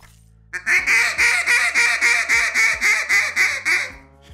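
A hand-blown duck call produces a hard Cajun-style squeal: about a dozen loud, raspy, evenly spaced notes in quick succession, heard up close with no other sound, imitating a feeding duck.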